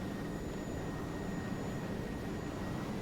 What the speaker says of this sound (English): Right engine started. We're starting up our left.